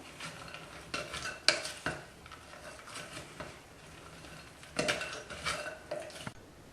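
Fruit, nuts and dough for Christmas stollen are mixed in a bowl, with irregular clinks and scrapes of a utensil against the bowl and a few louder knocks, close and without speech.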